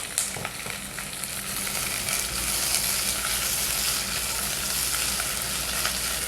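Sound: leeks sizzling in oil in a pan

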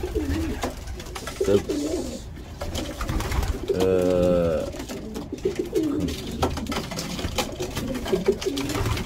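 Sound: pigeons cooing

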